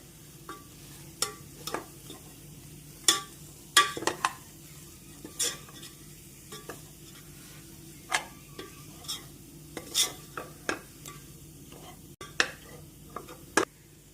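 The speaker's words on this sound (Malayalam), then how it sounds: "ഇനി നമുക്ക് ബീഫ് മസാല ഇടാം നന്നായിട്ട് മിക്സ് ചെയ്യാം" Beef masala being mixed in a pan: sharp, scattered clicks and scrapes of a spoon against the metal over a quiet, low sizzle, irregularly spaced and fairly close, with no talking.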